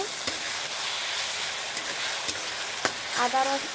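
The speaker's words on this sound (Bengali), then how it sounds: "তারপর ভালো করে মশলাটাকে কষিয়ে নেব" Ground ginger-garlic spice paste sautéing in hot oil with bay leaves in a pan, a constant loud sizzle with occasional spoon knocks and a brief scraping rattle near the end.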